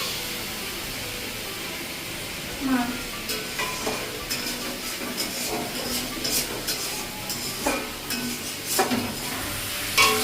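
Fish curry with potato and pointed gourd cooks in a pan, a steady sizzle and simmer with intermittent stirring scrapes and utensil taps, faint background voices beneath.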